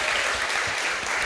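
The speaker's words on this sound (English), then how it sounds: "So another big round of applause." Dense audience applause at a startup accelerator showcase event, a continuous loud wash of clapping filling the short moment without any voices.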